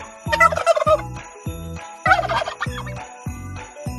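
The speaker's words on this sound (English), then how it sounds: "Turkey." A farm turkey gobbles in two rapid, warbling bursts, loud and near, set against a regular thumping musical beat and no voices.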